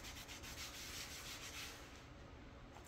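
Close-up, steady rubbing and swishing as glue is wiped dry from designer paper laid over cardboard, a continuous scratchy friction sound with no talking.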